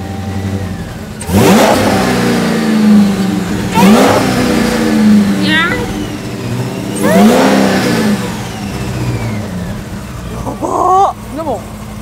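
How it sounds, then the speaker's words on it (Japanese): A 1000-horsepower American car's big engine is revved in three loud, rising blips with idle in between, then quieter shorter throttle stabs near the end; people talk faintly around it. "もう一回ちょっとエンジン聞かせていただき ます か。"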